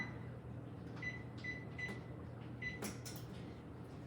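An oven's control panel gives a few short, bright electronic beeps, spaced irregularly and moderately close, as it is set to preheat to 350 over a low kitchen hum. A louder clatter follows near the end.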